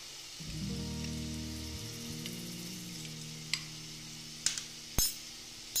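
Spices fry in a pan while Bengali chital fish kalia cooks, giving a steady close sizzle with a few sharp clinks of a utensil against the pan near the end.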